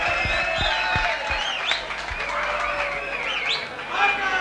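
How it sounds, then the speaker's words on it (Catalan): An audience in a radio studio breaks into applause. A few sharp claps come first, then voices call out and cheer loudly over the clapping all the way through. "Tots els de la cabina, fort aplaudiment!"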